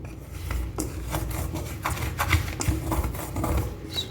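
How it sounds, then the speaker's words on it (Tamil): Wheat flour dough being mixed by hand with oil for crispy snacks, giving a steady close-up rubbing, squishing rasp that continues without a break. "எண்ணெயை போட்டு கொஞ்சம் நல்லா மிக்ஸ் பண்ணுவோம்"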